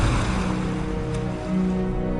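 Open ocean around Rose Atoll in the Pacific washes steadily, a continuous broad rush of surf and wind that stays loud and even throughout.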